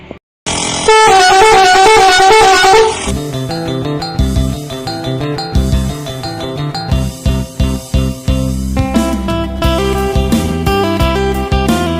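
A loud multi-tone musical horn blares from a passing Hino-chassis intercity bus on an Indonesian road, a long melodic tune followed by rapid repeated honks, close and dominant.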